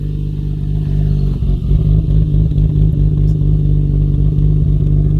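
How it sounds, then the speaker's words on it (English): Nissan Stagea 260RS with an RB28DETT engine running just after a cold start through a quiet aftermarket exhaust, a loud, close, deep steady drone with slight rhythmic clatter. "That was a cold start, by the way, and it has got the quiet exhaust."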